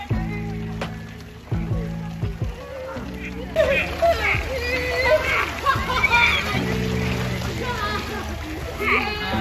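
Running water splashes and sloshes continuously while people talk over it, the splashing growing fuller midway through.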